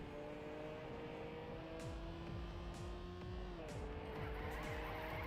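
Race car in a racing video game flipping over and skidding, with a steady engine drone, tire scrubbing and a few impact thumps, heard faintly at low level.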